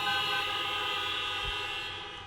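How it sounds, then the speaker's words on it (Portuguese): A horn blares at a packed lecture event in the Allianz Parque stadium, one loud sustained tone that holds steady for about two seconds and fades slightly at the end, with no talking. "Dá uma buzinada."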